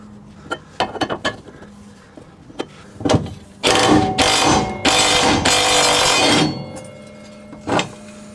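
A ratchet wrench loosening 14 mm and 17 mm bracket bolts on a Nissan S14/S15 Silvia rear subframe, clicking in several separate close, loud bursts with brief pauses between and no talking.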